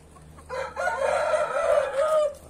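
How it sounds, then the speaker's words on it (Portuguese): A rooster crows once, loud and close, a drawn-out call lasting about two seconds, with chickens faintly clucking around it in a farmyard. "Por isso que eu comprei esse galo."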